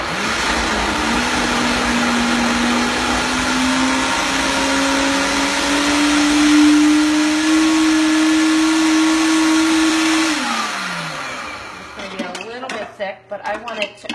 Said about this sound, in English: and then you just throw it in your blender.